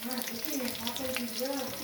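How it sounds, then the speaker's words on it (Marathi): Chopped green chillies frying in hot oil for poha give a soft, continuous sizzle under a voice, which talks over it throughout. "मिरच्या चांगल्या तळून घ्यायच्यात आपल्याला."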